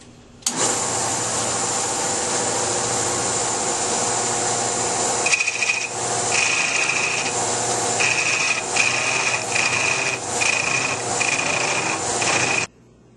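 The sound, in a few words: hollowing out inside of wooden Christmas ornament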